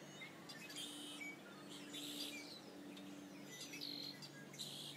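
Busy chorus of many starlings chirping, whistling and chattering together, some imitating red-winged blackbird calls, a dense flock at moderate distance with overlapping calls.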